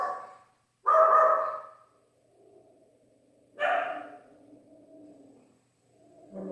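Puppies give two sharp, loud barks a few seconds apart, each trailing into softer whimpering, then start another bark at the end of a quiet indoor moment.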